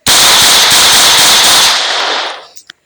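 Rapid burst of loud gunfire in Minecraft, a dense crackling volley lasting about two seconds before cutting off, with a final sharp pop; no talk over it.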